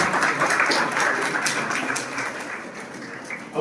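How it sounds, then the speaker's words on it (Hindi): Audience applause at a felicitation ceremony for a talent search exam, honoring a world chess champion: dense, steady clapping from a crowd in a hall, fairly loud throughout and tapering slightly toward the end. "उनके लिए तालियां हो जाए"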